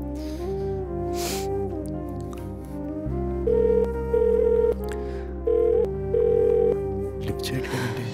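An outgoing phone call rings unanswered, with repeated electronic ringback tones in bursts over a low steady background hum. A quieter indoor drama scene continues around the rings.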